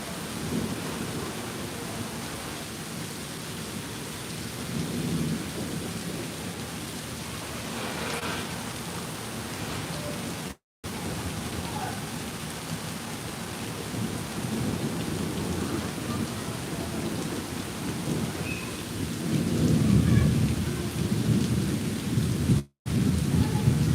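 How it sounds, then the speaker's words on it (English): A heavy thunderstorm at Disney brings steady rain hissing on the surfaces around and long, rolling rumbles of thunder that swell and fade, with two brief dropouts in the sound. "this is like the same bit of thunder's been going on now for like 40 seconds"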